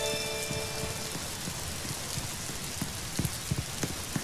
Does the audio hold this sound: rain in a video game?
yes